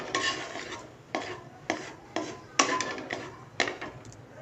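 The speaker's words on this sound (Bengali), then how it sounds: "সেই জন্য বাদামগুলো একটুখানি ভেজে নিতে হবে" Peanuts are stirred in a hot pan while they fry, giving a series of sharp scraping, rattling strokes about every half second with a faint sizzle in between. The sound is close and there is no talking.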